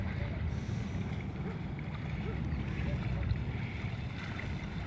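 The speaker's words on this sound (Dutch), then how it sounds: "Die boot gaan in een draai in." A remote-controlled fishing bait boat in South Africa swings into a turn on open water, its small motor humming steadily under a constant wash of water and wind noise with no clear pauses.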